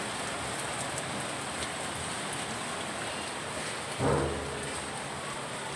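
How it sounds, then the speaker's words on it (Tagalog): Heavy rain pours down steadily near a neighbour's house, a dense, even hiss with a single soft thump about two thirds of the way through. "Ang lakas na ulan."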